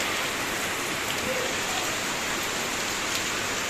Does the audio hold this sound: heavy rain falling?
yes